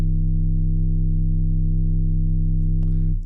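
A DRC synthesizer plays a sustained, loud bass tone recreating a track, holding one steady pitch before cutting off abruptly at the end, with no talking.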